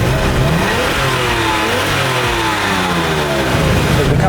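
A Porsche 997 Turbo in sport mode accelerates hard out of a roundabout, its engine loud, close and continuous, rising in a steady surge with no voices.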